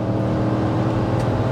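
A Cadillac Escalade with a 6.2 V8 engine accelerates hard with a loud, continuous roar that holds steady from start to finish.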